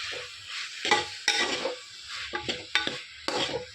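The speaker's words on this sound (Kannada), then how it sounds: "ಇವಾಗ ಇದಕ್ಕೆ ನಾನು ವೆಜಿಟೇಬಲ್ ಸೇರಿಸ್ಕೊತಾ ಇದ್ದೀನಿ" Vegetables being stirred and fried in oil with cumin and tomato, bursts of scraping stirring over a steady sizzle, with loud intermittent strokes of the spoon against the pan.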